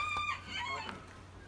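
Chickens on a farm in Rize give a few short, soft clucks and chirps, slightly distant, in a quiet space with faint background hiss.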